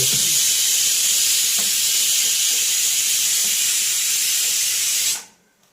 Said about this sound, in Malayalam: രണ്ടാമത്തെ വിസിലും അടിച്ചു കേട്ടോ കടച്ചക്ക